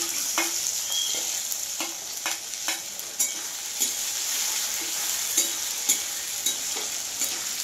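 Two tomatoes hit a hot pan for a chicken bora curry, frying with a steady bright sizzle and periodic scraping stirs and light clinks of a utensil against the pan, close and clear with no talking.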